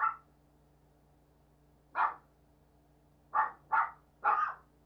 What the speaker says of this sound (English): You might hear my little puppy getting grumpy in the background